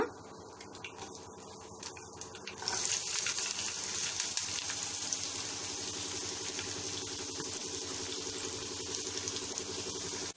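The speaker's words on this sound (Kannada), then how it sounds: "ಈರುಳ್ಳಿ ಎಲ್ಲ ಇವಾಗ ಸ್ವಲ್ಪ ಕಲರ್ ಚೇಂಜ್ ಆಗೋವರೆಗೂ ಚೆನ್ನಾಗಿ ಫ್ರೈ ಮಾಡ್ಕೋಬೇಕು" Chopped onion, green chilies and curry leaves drop into hot oil for a yogurt sambar, a quieter start giving way to a sudden, loud, sustained sizzle that holds steady with faint scraping.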